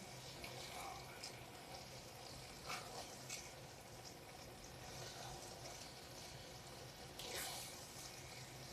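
Water is poured close up into a pan of rice, vegetables and bay leaves, a continuous splashing stream that holds steady throughout.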